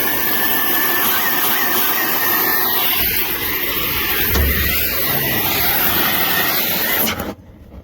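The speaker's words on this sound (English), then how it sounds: "we'll just use the old torches and cut that step off" A cutting torch roars steadily, loud and close, as it cuts a step off a burnt John Deere combine. The hiss runs unbroken for about seven seconds and then cuts out abruptly.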